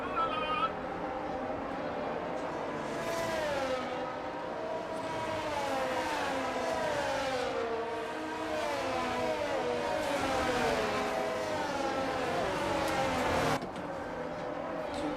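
Several F1 race cars on a formation lap at the Brazil circuit in a video game, their engines whining in overlapping rising and falling tones as they weave at moderate volume, steady throughout with a brief drop near the end.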